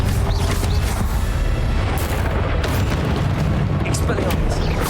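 Confringo fire spell explosions in Hogwarts Legacy, a loud continuous barrage of booming blasts and crackling bursts with dense low rumble throughout and sharper impacts scattered across, under game voice.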